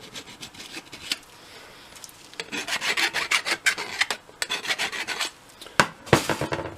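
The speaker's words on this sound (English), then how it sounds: "You can either use a file and work your way around" A hand file works a sharp edge on copper, with rasping strokes in uneven runs. The strokes build from quiet scraping to louder, rapid passes near the end, and no one speaks.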